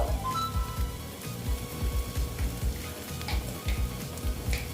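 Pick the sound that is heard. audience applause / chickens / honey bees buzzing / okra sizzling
okra sizzling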